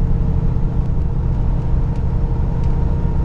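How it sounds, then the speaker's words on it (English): A 1995 Ford Bronco with a V8 engine accelerates, its steady engine and road rumble carrying a faint pulley whine underneath, loud and continuous from inside the cabin. "Got a little bit of a whine, one of the pulleys or something. Under the hood, you can hear it when you accelerate."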